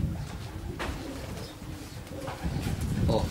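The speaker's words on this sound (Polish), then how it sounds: "I pikuje nam tutaj kolejny gołąb" A racing pigeon coos near its loft at a homecoming race arrival, soft repeated low coos close by over steady outdoor background noise.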